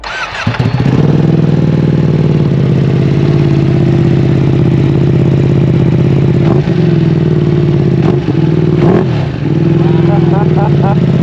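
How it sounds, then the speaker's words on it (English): A Bayliss V2 motorcycle with an Akrapovic exhaust cranks and fires on a dyno, then idles with a deep, loud rumble, punctuated by a few brief revs and clattering mechanical noises. "start the bike up, give us a couple revs"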